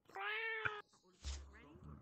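A cat in a VR video game meows once, a clear drawn-out meow, followed by a brief noisy rustle and a softer, fainter second cry.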